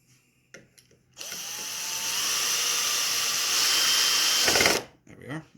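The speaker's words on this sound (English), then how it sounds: "now we're just going to drill it into place." A power drill drives a screw into the cross member of a model railway baseboard frame, whirring loud and steady for about three and a half seconds before cutting off, with a few light knocks around it.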